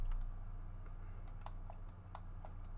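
Computer keyboard keys pressed in a few separate clicks and short shortcut combos, sparse and irregular, close and fairly quiet over a steady low hum, with no talking.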